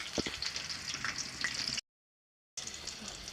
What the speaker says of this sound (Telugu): కాసేపు ఫ్రై అవనివ్వాలండి ఒక ఫైవ్ సెకండ్స్ అలా ఫ్రై అవనివ్వండి